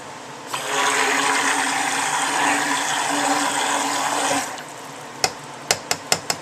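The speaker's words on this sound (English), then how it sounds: "I'm going to give it a quick shot with the blender" A stick blender whirs steadily for about four seconds while mixing soap, then cuts off, followed by a few sharp taps and clicks.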